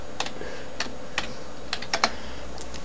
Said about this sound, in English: type in zune.com